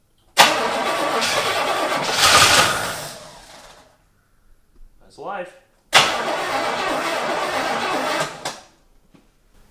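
An abandoned Oldsmobile engine, fed a splash of brake cleaner with its fuel line disconnected, cranks and catches loudly for a few seconds. It dies, then fires up again, and a person speaks briefly in between.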